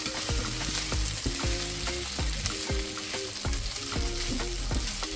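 Green beans fry in a hot pan for fried rice, a steady loud sizzle broken by regular scraping clatters of a spatula stirring every half second or so.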